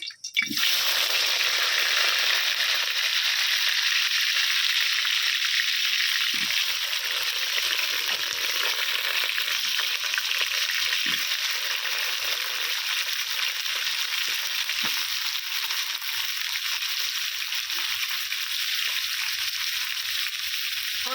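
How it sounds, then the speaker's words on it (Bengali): Potato pieces fry in hot mustard oil in a wok, a loud, steady broadband sizzle that starts abruptly and holds for about twenty seconds, with occasional faint pops and clinks beneath. "কড়াতে দিয়ে দিয়েছি সর্ষের তেল তেলটাও আমার গরম হয়ে গেছে এর মধ্যে আমি দিয়ে দিচ্ছি আলু"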